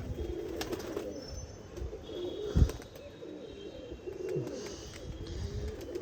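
Ordinary pigeons flying and cooing outdoors, with soft low coos and faint flutter over steady background noise, one brief louder thump midway, no talk.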